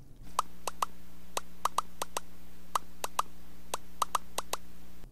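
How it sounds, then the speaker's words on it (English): Cartoon cereal pouring from Dexter's Laboratory comes as a scattered run of sharp, crisp little plinks and taps, irregularly spaced, over a low steady hum. "and even pouring his cereal"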